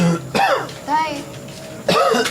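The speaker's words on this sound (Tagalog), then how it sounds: "Tagal na yung ubo nyo" A man coughs in harsh, throaty bursts, with one cough at the start, a strained clearing of the throat in the middle and another heavy cough near the end, loud and close with no speech between.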